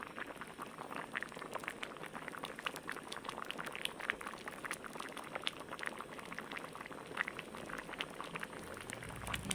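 A pot of dish with chili simmering on the stove, giving a steady bubbling, pattering boil that stays close and even throughout, with no talking.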